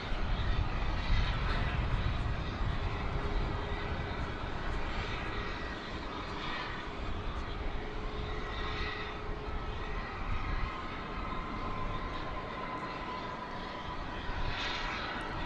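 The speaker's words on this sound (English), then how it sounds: "Airbus A321 coming in from Cancun, Mexico" An Airbus A321 airliner inbound from Cancun approaches DFW Airport at night, its engines producing a continuous broad roar that swells and fades slightly over fifteen seconds with no talking.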